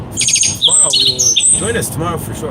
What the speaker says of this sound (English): If you heard those birds there